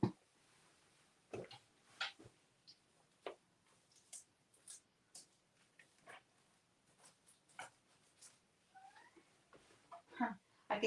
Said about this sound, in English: I can hear Crumpet howling outside the door because he wants to come in.